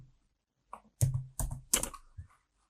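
Typing on a computer keyboard, a short burst of about five distinct close clicks in an uneven rhythm against an otherwise quiet room.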